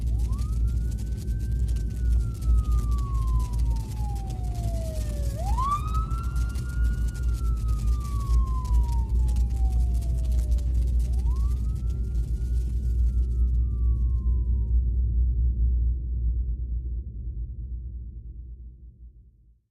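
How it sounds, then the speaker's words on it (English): A wailing siren sweeps up and down in long, repeating rises and falls over a steady low engine rumble, fading out near the end. "The fire comes, and with it, sirens."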